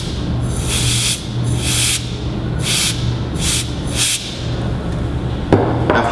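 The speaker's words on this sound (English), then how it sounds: "blowing the powder through the tube using ultra-pure, moisture-free, non-flammable canned air" Canned air blows talcum powder through cable tubing in repeated short bursts, about six whooshing puffs at an even pace, close and fairly loud, with a small knock near the end.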